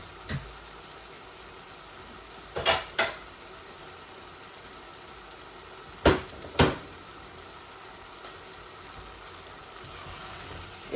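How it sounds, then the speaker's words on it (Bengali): Potatoes and frozen tomato fry together in a pan with a low, steady sizzle, broken by four sharp utensil clatters in two quick pairs. "এই দেখুন আমি আলুগুলাও দিয়ে দিচ্ছি, একসাথে ভাজা ভাজা হয়ে যাবে।"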